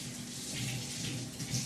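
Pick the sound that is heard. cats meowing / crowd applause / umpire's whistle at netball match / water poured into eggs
water poured into eggs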